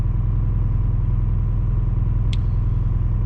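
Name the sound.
Detroit 4-53T diesel engine running in Super Duty truck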